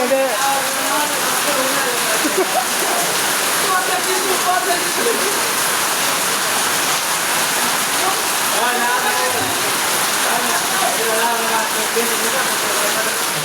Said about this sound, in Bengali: এটা বৃষ্টি হইতেছে প্রচুর।